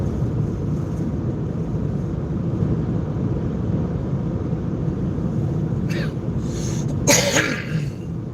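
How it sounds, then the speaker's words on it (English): A couple of short, sharp coughs near the end, heard over a steady low rumble of a car engine and road noise during a night drive. "I'm sure you guys don't want to hear me coughing"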